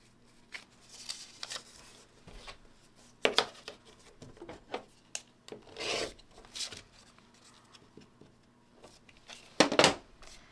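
Scissors trimming quilt fabric pieces for a Dear Jane block, with quiet close snips, rasping fabric handling and scattered sharper cuts, louder near the end, no talk.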